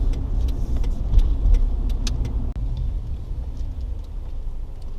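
A car driving on the road, a steady low engine and road rumble heard from inside the cabin, with a few faint clicks and no talk.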